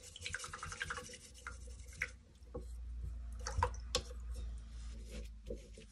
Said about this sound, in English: let's give our mucky brush a wash